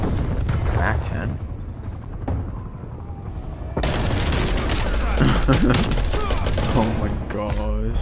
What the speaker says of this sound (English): That gun's fire rate is mad.